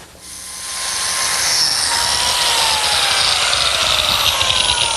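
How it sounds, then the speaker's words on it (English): A biscuit joiner cuts slots for a particle board and oak desk frame in a woodworking shop, its motor whining up to a loud, sustained high-pitched cutting drone that holds steady throughout with no talking. "I'm cutting biscuit slots."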